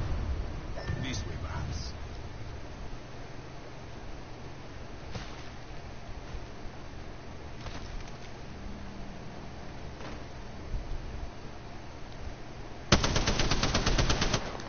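Video game gunfire during a competitive team match rattles in a sustained burst near the end, after quieter stretches of distant shots under team chatter.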